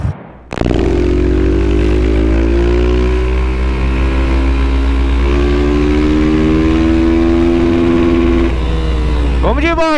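Honda Titan 160 motorcycle with an activated two-step, its engine running loud and close with a steady droning rumble that gradually rises in pitch, ending in a brief rev.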